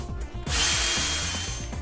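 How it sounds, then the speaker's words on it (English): A power drill whirs up and bores a hole into a wooden cabinet, a loud, steady grinding whine lasting just over a second after a brief ratchety start. "we're going to drill one hole on the bottom"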